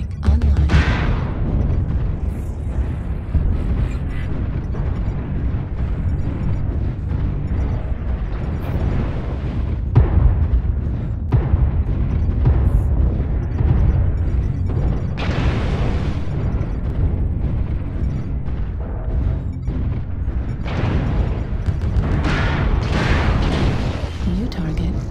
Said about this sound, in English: Target acquired. Artillery strike online.